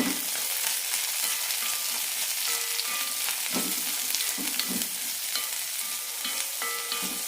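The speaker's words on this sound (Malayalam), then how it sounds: "ഒരു ചെറിയ കഷ്ണം ഇഞ്ചിയും രണ്ട് പച്ചമുളക് കീറിയിടാം ഒരു സവാളയും നന്നായി വഴറ്റാം" Onion, ginger and slit green chilies sauté in a hot pan for masala poori, a loud continuous sizzle broken by scraping stirs and spatula knocks throughout, with no talking.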